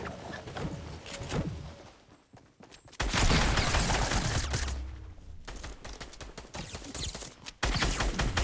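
Gunfire in a Fortnite Battle Royale match, a run of sharp loud shots at close range, stopping briefly and then resuming amid other game sounds.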